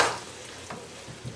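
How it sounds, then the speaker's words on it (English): A spoon stirs cabbage and chunky herbed tomato sauce in a frying pan with butter, making a few soft scrapes over a steady sizzle. Close by, with no talking. "give that a stir"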